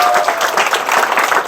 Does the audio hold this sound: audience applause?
yes